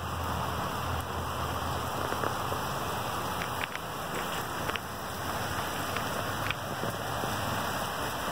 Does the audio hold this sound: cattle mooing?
no